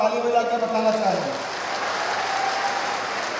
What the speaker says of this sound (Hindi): मेरी बात से सहमत हो गए तो एक बार ताली बजा के बताना चाहेंगे।